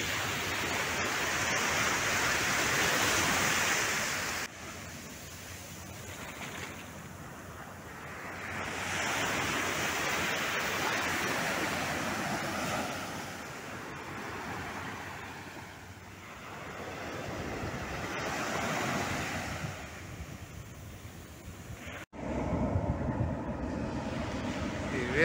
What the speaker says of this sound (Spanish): Mira qué olas.